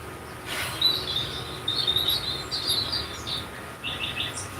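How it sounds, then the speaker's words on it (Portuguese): Small birds chirp outside a house in Mairiporã, high thin tweets in quick bursts and short trills, moderately near over a quiet hiss of ambient background. "tem uns pássaros, vamos ouvir a natureza"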